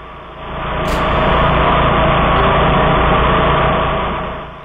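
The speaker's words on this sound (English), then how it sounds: "Randy up there is using a 2002 DR all-terrain brush and field mower" Loud, steady engine drone of a 2002 DR AT2 all-terrain brush and field mower running nearby, swelling up after a quieter start and holding even throughout without any speech.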